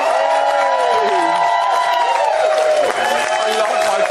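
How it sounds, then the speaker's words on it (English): A studio audience on a UK Big Brother spin-off show cheers and whoops loudly and without a break. The crowd noise is dense and sustained, and voices carry over the top. "give him a round of applause"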